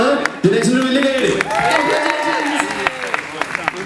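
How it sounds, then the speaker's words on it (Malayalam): An audience at a family night gathering claps and cheers for a contestant, steady applause mixed with crowd chatter and voices throughout, with a few sharper claps standing out. "ജിനെക്സിന് വലിയ കൈയടി."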